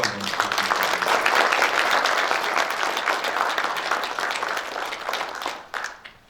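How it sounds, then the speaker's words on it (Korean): A crowd at a Korean journalists' day ceremony gives a loud, steady round of applause in honour of senior journalists, the clapping swelling then fading out near the end. "다 같이 박수 한번 부탁드립니다"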